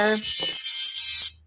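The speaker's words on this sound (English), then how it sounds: "that's my alarm. Sorry about that." A bright, high-pitched phone alarm tone rings continuously for over a second, with a brief low voice at the start, then cuts off.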